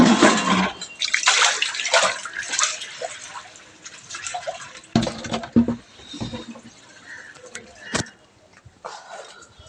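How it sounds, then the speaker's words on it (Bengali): Water being poured and splashed out while washing dishes, irregular gushes and splashes with scattered clinks, close and fairly loud, with a voice faintly audible in places. "জলটা ফেলে দেবো।"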